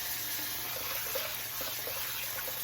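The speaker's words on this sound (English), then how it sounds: "we're going to just rinse that and just leave it to drain" Water runs steadily from a kitchen sink tap as vegetarian meatball ingredients are rinsed and left to drain, a soft continuous hiss at moderate distance with no talking.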